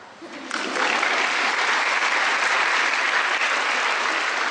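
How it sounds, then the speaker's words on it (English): An audience at a school orientation breaks into applause after a brief moment of quiet, swelling into dense, even clapping that fills the hall and holds steady. "You're allowed to clap."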